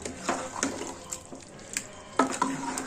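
A spoon stirs chicken gravy in a pot, giving a few faint, irregular scrapes and light metallic clinks against the sides with no talking.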